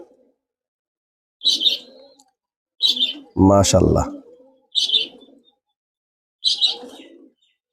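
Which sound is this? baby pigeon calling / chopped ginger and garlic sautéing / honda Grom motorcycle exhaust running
baby pigeon calling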